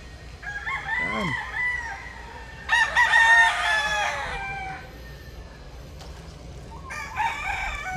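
Roosters crowing at a chicken farm, several loud cock-a-doodle-doo calls spread across the moment, some close and some farther off, over faint background clucking.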